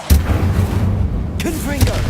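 Incendio fire spell cast in Hogwarts Legacy: a sudden whooshing burst followed by a roaring fiery rumble, with a second flare and brief voiced effort sounds a moment later.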